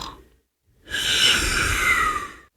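An animated cartoon number character snores, one long, loud, rasping breath lasting nearly two seconds after a short quiet gap, with a faint breathy sound just before it.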